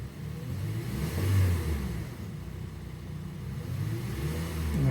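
A 2010 Honda Accord 2.4 liter four-cylinder idles steadily after starting following a valve cover gasket job, a low continuous engine drone with a brief swell in revs, no voices over it.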